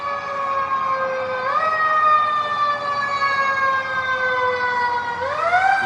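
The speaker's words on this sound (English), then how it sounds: "Oh, got the ladder truck going out There too." Fire ladder truck siren wailing outdoors, a loud continuous tone that steps up in pitch twice as the truck heads out, heard alone with no talk over it.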